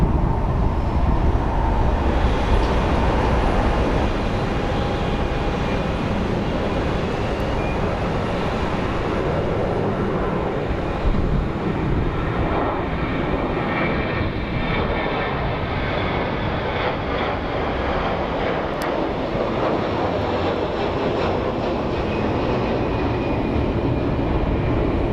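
Delta Airlines airliner at Phoenix Sky Harbor Airport, a steady, moderately distant jet engine rumble and rush that continues evenly throughout with no voices.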